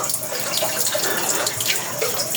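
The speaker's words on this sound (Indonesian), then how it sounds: "Ini karena ada air mengalir di sini dan ini adalah tempat mandi" Water flows continuously at a bathing place in an abandoned village in the middle of a forest, a close, steady splashing rush with no talk.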